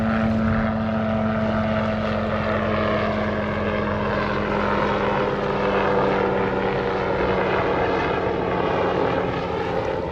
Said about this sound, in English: oh, got a chopper going by